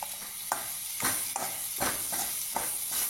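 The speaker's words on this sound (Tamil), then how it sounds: "அதோட கொஞ்சம் கருவேப்பிலை சேர்த்து நல்லா வதக்கிங்க." Tomato and curry leaves sizzle and fry in a pan for gooseberry chutney, with a steady close hiss broken by regular scraping stirs about every half second.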